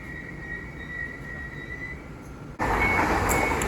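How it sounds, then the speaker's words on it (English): A Class 345 TfL Rail train runs through Ealing Broadway station on the Great Western Main Line, a steady rumble with a thin high whine, then a sudden louder roar and rush as it passes close by. "Now arriving is the 12:44 TfL rail service from Hain and Harlington to London Paddington, being worked by a Class 345"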